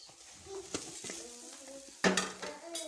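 A paratha frying in a hot pan during a home breakfast cook, with steady sizzling broken by utensil scrapes as it is flipped and a louder burst of frying right after it lands.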